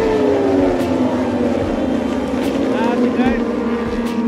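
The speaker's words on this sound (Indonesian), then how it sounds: "Ini itulah Moto2. Suaranya emang enak banget, nggak ada obat." Moto2 racing motorcycles pass at the Mandalika circuit during a MotoGP 2022 event, a continuous engine roar with rising and falling pitch sweeps as bikes go by, with crowd murmur and a brief spoken word.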